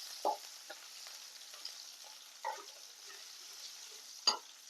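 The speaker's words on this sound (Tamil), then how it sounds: "சின்ன வெங்காயம் கட் பண்ணி வச்சிருந்தோம் இல்லையா, அதை போட்டு நல்லா வணக்கி விட்டுக்கலாம்" Shallots sauté in oil for kara kuzhambu, giving a soft, low sizzling hiss with a few brief spatula scrapes and taps scattered through.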